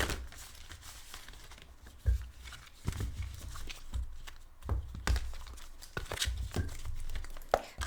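Tarot cards being shuffled during a collective reading, giving papery riffles, crinkles and soft taps in irregular bursts, close and moderately loud with no talk over them.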